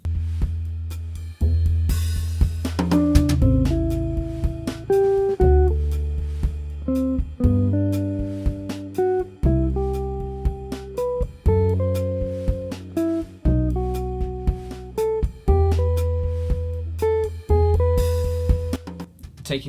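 A melodic line built in thirds played over a jazz chord progression, with a clear, steady sequence of sustained keyboard notes and chords moving through the changes, loud and alone without talk.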